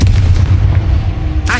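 A Confringo spell explosion in Hogwarts Legacy, a loud, heavy booming blast rumbling for over a second before a brief sharp burst at the end.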